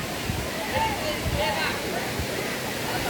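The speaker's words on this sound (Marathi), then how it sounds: "हा पहा धबधबा सुमारे 50 ते 60 फुटावरून पाणी खाली कोसळताना" Water plunging 50 to 60 feet at Savdav waterfall in the Konkan makes a constant broadband roar, with voices of people talking nearby over it.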